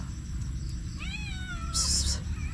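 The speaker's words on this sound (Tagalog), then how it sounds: "Ayun, may pusa pa nagmeow." A cat meows a single drawn-out, wavering meow at a quiet track with no people around, heard over a steady low outdoor rumble and followed by a brief hiss.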